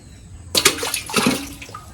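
Fish dropped by hand into a well, giving a sudden burst of water splashing and sloshing that starts abruptly, then a few smaller splashes and drips close by.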